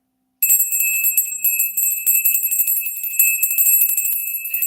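A small hand bell rings continuously after a brief silence, its bright, high metallic tone shimmering in rapid repeated strokes, close and fairly loud with no other sounds.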